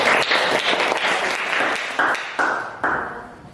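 A classroom audience of students claps for a group that has just finished presenting, the applause steady and fairly close, with a few sharp hand-claps or knocks punctuating the final seconds.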